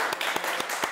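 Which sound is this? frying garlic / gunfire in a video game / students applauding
students applauding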